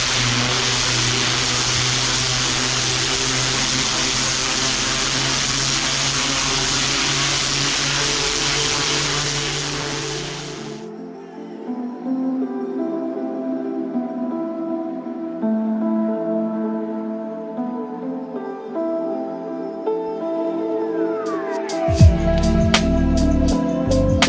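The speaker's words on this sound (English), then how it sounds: "I'm gonna follow it up with a rinse with the turbo nozzle just to make sure everything comes out of the joints" A pressure washer with a turbo nozzle rinses out paver joints while stripping old paver sealer, giving a loud, steady broadband spray roar for about ten seconds that then cuts off, leaving a quieter engine-like hum and clatter.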